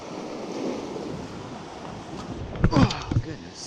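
Ocean surf washes against jetty rocks in a steady wash of waves and wind, loud and close, with a few sharper splashes or thumps near the end.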